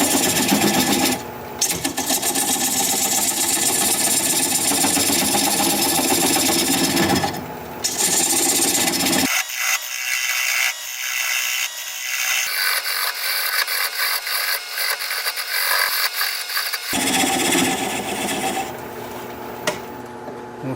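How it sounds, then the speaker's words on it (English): A wood lathe spinning plum wood at about 500 RPM as a 3/8 inch bowl gouge cuts away the tenon, a loud continuous rasping scrape that shifts tone and thins briefly, with the machine's drone beneath. "I'm going to use a 3/8 inch bowl gouge and begin to commence removing that"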